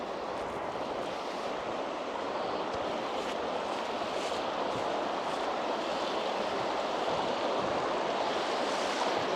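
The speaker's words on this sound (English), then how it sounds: "got the water trickling over all the rocks." Water trickles over rocks in a small stream on a morning countryside walk, a steady close broadband rush with no voices.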